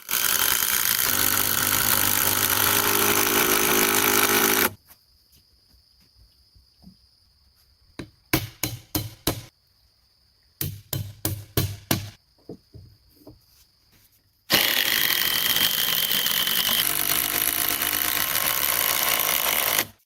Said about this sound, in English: The connection between the wood and the soil is being tightened with a drill machine.